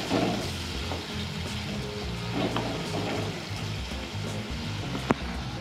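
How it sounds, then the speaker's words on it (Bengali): Water poured into sizzling paneer lababdar masala in a pan, giving a steady, close frying hiss and bubbling that runs throughout, with a sharp click near the end. "এরপর আমরা দেবো এর মধ্যে জল দিয়ে আবার আমরা ভালো করে দিকে কষিয়ে রান্না করে নেব।"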